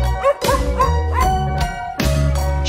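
Bright, close dog yips and barks sound in repeated bursts over the music of a Swedish children's nursery song.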